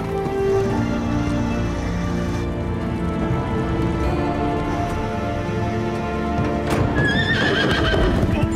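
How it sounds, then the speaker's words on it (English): A horse clip-clops and whinnies up close on a ranch, with steady hoof steps running throughout and a loud neigh near the end over a busy background of music and ambience. "I figured we could use another horse around here with some cow sense."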